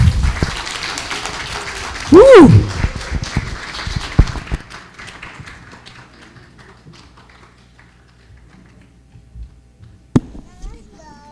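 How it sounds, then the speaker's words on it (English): An audience at a live Chinmaya Vrindavan event applauds. A loud burst of clapping comes with a cheer early on, then it thins to scattered claps and a quiet room with faint children's voices. "let's give them a round of applause"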